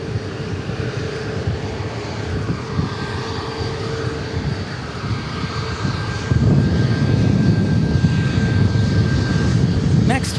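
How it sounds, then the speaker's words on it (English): A NetJets Challenger 350 business jet arriving at Dallas Love Field, a steady broadband engine roar at moderate distance that swells louder in the final seconds, with no talk over it. "Next arrivals, a NetJets Challenger 350."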